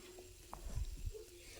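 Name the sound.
pointed gourd and shrimp being stirred and fried in a pan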